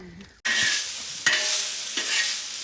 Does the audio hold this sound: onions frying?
yes